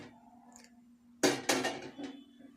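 A metal cooking pot is set down on a lit stove with a sharp clank, followed by a second knock and a lighter rattle over a low steady hum, close and clear.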